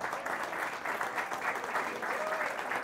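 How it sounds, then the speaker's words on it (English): Audience applause at a business mentorship event, a steady round of clapping that carries on at moderate loudness for the whole stretch. "A round of applause for our president, Chris Erickson."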